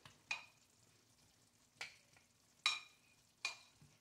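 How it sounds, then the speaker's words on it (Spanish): Onion rings dropped into a pan of mahi mahi in green sauce: four separate sizzling bursts, each sharp at the start and then fading, over a quiet background. "Ahora le vamos a echar las ruedas de cebolla"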